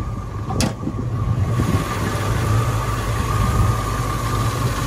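A 1965 Ford Mustang V8 fastback runs at idle up close, a steady low-pitched rumble with an even pulse; a brief click sounds near the start, and there is no talking.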